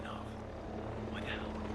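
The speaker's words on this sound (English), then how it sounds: "enemy heli coming in from southwest" An enemy helicopter in the Ghost Recon Breakpoint video game gives a steady, low rotor drone with buzzing harmonics under a voice speaking.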